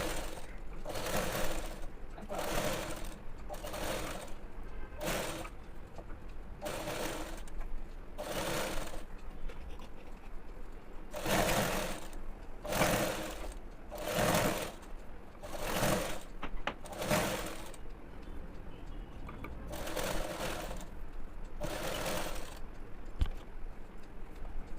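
A sewing machine runs a second line of stitching along a seam on a pair of trousers. It comes as a series of short, even mechanical whirring bursts separated by brief pauses, heard up close at moderate volume.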